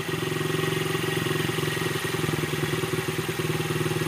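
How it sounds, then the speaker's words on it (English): A Honda XR50 motorcycle engine, recently retuned after a needle and seat problem, idles steadily with an even, rapid putter and light mechanical clatter, close and continuous with no voices. "Now it's running a nice idle."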